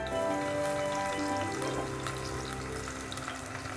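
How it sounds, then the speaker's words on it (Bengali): Onions dropped into hot oil that already holds cardamom pods, cooking for a mutton liver curry. A dense, steady sizzle and crackle of frying runs throughout and stays close and fairly loud. "এখন দিয়ে দিব আমি পেঁয়াজ।"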